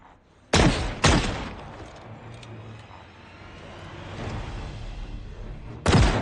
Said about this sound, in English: shooting up the stairwell like this